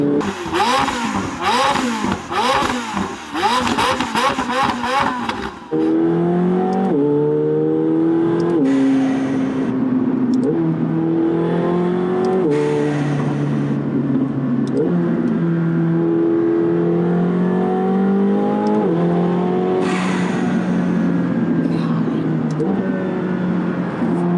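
A tuned 900-horsepower McLaren 720S engine roars loudly under hard acceleration, with a rapid rising whine through several sharp gear shifts, a buzzing, rattling opening stretch, and steady throttle afterward.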